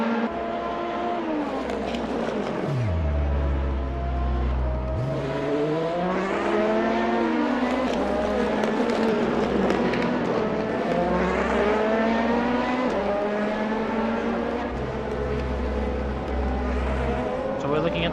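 Race cars in a five-hour endurance sim race at Motegi cross the finish line, engines droning loudly and steadily with rising and falling pitch sweeps as cars pass, under continuous commentary.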